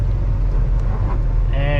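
Trucks backing into parking spots at a truck stop, with a loud, steady diesel engine rumble filling the whole stretch close by.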